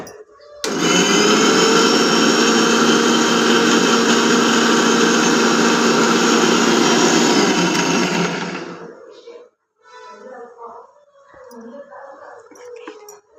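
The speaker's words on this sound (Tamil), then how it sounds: "நல்ல ஃபைனாக மையாக அரைக்கணும்." A kitchen mixer grinder whirs loudly for about eight seconds, grinding ingredients with a little water into a fine paste for vegetable kurma, then cuts off. Quieter voices and household sounds follow.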